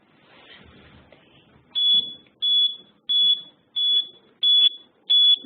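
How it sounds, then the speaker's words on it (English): A high electronic buzzer alarm on an elderly patient gait-monitoring device sounds in six short, evenly spaced beeps, loud and close, after a stretch of faint background noise. "Above the threshold, the buzzer will be raised."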